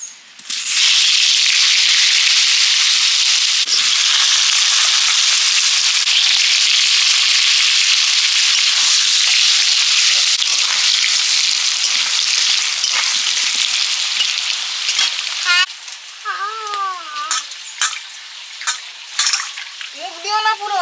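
Potatoes for a meat curry fry in a pan with a loud, close, continuous sizzle and crackle, fading toward the end as faint chirping or squeaky sounds emerge.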